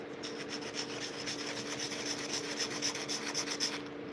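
A wooden knife sheath is sanded by hand with a steady, close rasping rub that keeps going in even back-and-forth strokes, with no voices.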